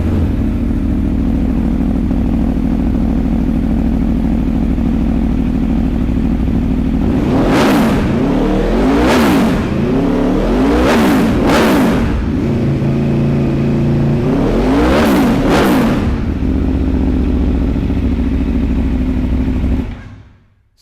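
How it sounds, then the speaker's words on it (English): An Aprilia Tuono V4 1100 Factory with an Akrapovic exhaust idles loud and lumpy up close, then is revved hard four times in sharp, rising blips before the engine cuts off at the end. "the Akrapovic silencer on this bike sounds like the 4-stroke version of the end of the world"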